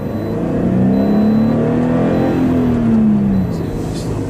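A car driving up toward a cone on a braking test course, its engine rising in pitch as it accelerates and then easing off, fairly loud and close.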